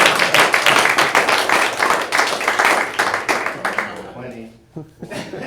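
An audience at an office meeting bursts into loud, brisk clapping with a little laughter mixed in, dying away after about four seconds as a voice begins speaking.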